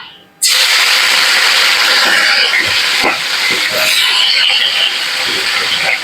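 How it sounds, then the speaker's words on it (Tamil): Brinjal (eggplant) pieces dropped into hot oil in a pan burst into a loud, steady sizzle and hiss that starts abruptly and continues with small crackles, close up. "கத்திரிக்காய் போட்டு வதக்கி விடுங்க."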